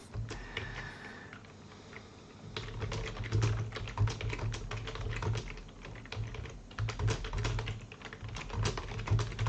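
Steady typing on a computer keyboard, a dense run of quick, light key taps with irregular rhythm over a low background hum, close and moderately loud, without talk.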